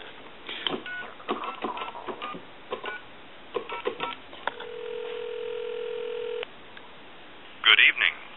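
Conairphone Metropolis telephone after repair, with clicks and button presses, a steady dial tone held for a couple of seconds, then a burst of dialing tones, heard close with someone talking over the handling noise.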